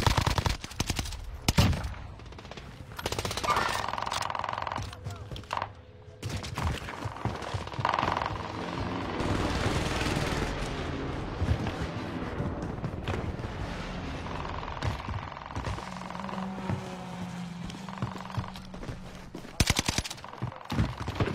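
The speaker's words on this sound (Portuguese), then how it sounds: "o cara vai atirando você lá de baixo" Video game gunfire fills the Modern Warfare 2 beta, with rapid automatic bursts and single shots over a busy, sustained soundscape.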